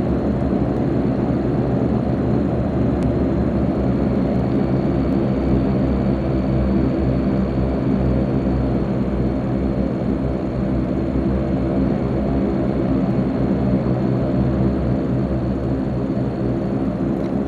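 A simulated aircraft taxis to the terminal at night on Saba in Flight Simulator X, giving a steady, continuous engine drone and low rumble at constant loudness, with no talking.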